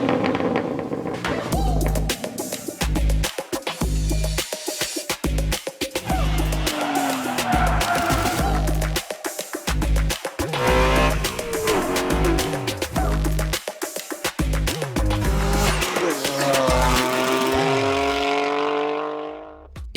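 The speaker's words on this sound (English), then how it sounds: "courtesy of the full catback exhaust from Remus. With its full stainless steel construction" A BMW G82 M4 revving hard through a Remus full stainless steel catback exhaust, loud and close, with repeated throttle blips, rising and falling engine pitch and crackling pops between pulls.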